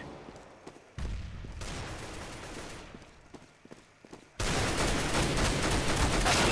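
Rifle fire in Counter-Strike: Global Offensive, with scattered sharp shots, a loud report near one second, and then a sustained dense burst of gunfire from about four seconds onward, close and loud with no talk.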